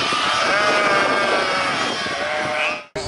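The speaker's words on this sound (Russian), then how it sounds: "С поля пришли матки сытые, с ягнятами смешались." Sheep and lambs bleat loudly together at a farm pen in Dagestan as ewes return from the field, a dense, continuous chorus of overlapping cries that stops abruptly near the end.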